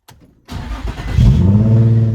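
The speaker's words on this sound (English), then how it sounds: "I think we gotta turn on the car to see if the airbag blows up or not." A Nissan 350Z engine cranks briefly, catches and revs up, loud and close with no one talking.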